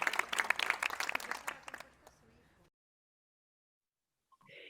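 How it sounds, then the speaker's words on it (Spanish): Audience applause in a Spanish-language Catholic broadcast, a dense burst of clapping that fades out after about two seconds, followed by silence and a brief faint sound near the end. "Un aplauso hasta el cielo para San Agustín por su conversión"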